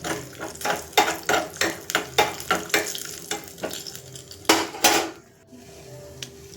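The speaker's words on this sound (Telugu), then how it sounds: "ఆ గరట్లోకి నెయ్యి కొద్దిగా వేసుకొని జీడిపప్పు వేయించుకుందాం మంచిగా" Cashews fry in ghee in a small pan, with a regular series of sharp metallic spoon-against-pan clinks over a soft sizzle, close and fairly loud, then quieting near the end.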